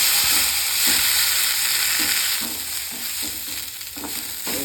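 Cumin seeds and fresh coriander leaves fry in a pan for chutney, giving a steady hiss with soft intermittent stirring scrapes throughout, close and fairly loud.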